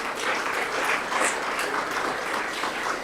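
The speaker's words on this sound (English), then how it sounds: "You can feel free to give yourself another round of applause." A conference room full of people claps steadily, a dense, even applause without pauses or cheering.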